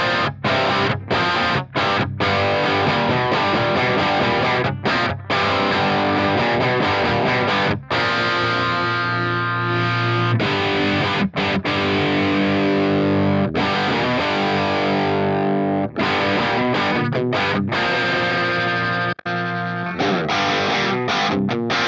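Electric guitar with humbucker pickups in a low tuning, heavily distorted and played through a Strymon Iridium amp and cab simulator, chugging riffs that run loud and continuous with brief stops.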